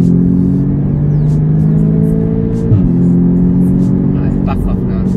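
An Audi S3 8V with a dual-clutch gearbox holds a loud, steady engine drone, then drops sharply as it shifts gear and pulls on, close and heavy inside the cabin, with brief voices under it.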